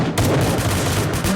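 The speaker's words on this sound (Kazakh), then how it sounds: "Оқ емес бомба." Explosions go off in a video game, a loud, dense, booming blast with rumbling sustain that fills the short moment and stands alone.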